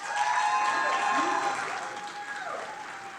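Audience applause at a university town hall for Bowie State, a dense, steady wash of clapping from a large room that holds loud for a few seconds, then eases slightly, with a faint voice or tone rising over it.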